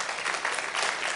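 Audience applause at a memorial gathering in a church setting, a steady dense patter of many hands clapping at once, fairly close and sustained through the short stretch with no voices over it.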